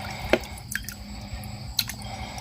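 Mushrooms being washed in water: a few close drips and small splashes at irregular moments over a soft background, with no talking.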